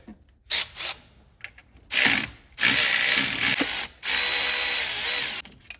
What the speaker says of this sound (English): I'm gonna take the alternator off and unhook the connectors there.